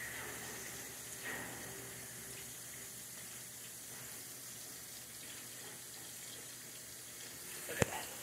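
Hands being washed under a running kitchen tap, a steady close stream of water with faint splashing throughout and a sharp knock near the end.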